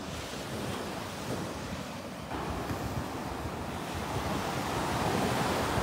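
Sea waves wash in at Mondello beach in Sicily, a steady, close surf rush with heavy wind buffeting the microphone throughout and no voices.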